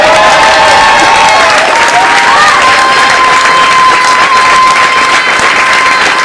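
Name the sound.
audience applause at a café concert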